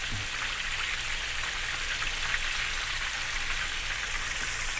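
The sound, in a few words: chicken frying in hot oil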